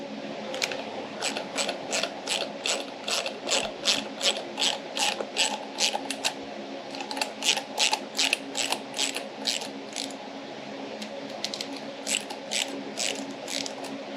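A ratchet loosening a bolt while working on a Lexus RC F, heard close up as rapid runs of clicking pawl strokes, repeated in bursts with short pauses between them.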